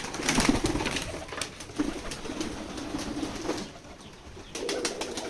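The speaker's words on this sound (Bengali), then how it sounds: "আমরা এই কবুতরের যে বাচ্চাগুলো আছে সেই বাচ্চাগুলো বিক্রয় করতে চাই আপনাদের মাঝে" Pigeons cooing at a village pigeon farm in Keshabpur, Jessore, with repeated low throaty coos from several birds nearby over a background of rustling and wing flutters.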